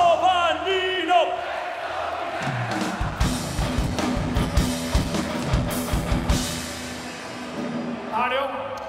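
A festival crowd at a live show roars, cheers and claps for presenter Giovannino, a dense burst of whoops and applause that builds and then eases, with a voice shouting over it at the start and end.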